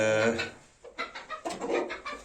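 A hen clucks in a few short bursts close by, with a brief pause early on before a quicker run of clucks follows.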